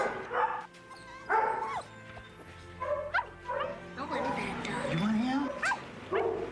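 A small puppy yips, barks and whimpers in short high-pitched bursts, a rising whine near the end, with a narrator's voice running underneath throughout.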